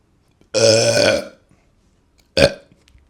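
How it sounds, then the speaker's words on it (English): Two loud, close burps from a person without a stomach: a long rumbling one, then a short quick one after a silent pause. "Can you still burp without a stomach?"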